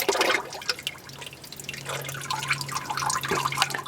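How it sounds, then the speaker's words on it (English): Motor oil drains from an upturned car oil filter into a drip pan, a steady trickling, dripping liquid stream that stays close and fairly loud throughout without any talk. "going to start running oil down into our oil drip pan"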